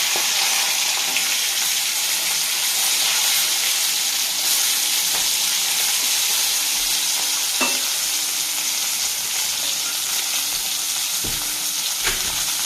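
Fish pieces fry in hot oil in a pan for a Bengali seating fish curry, giving a steady, dense sizzle throughout with occasional utensil clinks and scrapes, close and unbroken, with no talking.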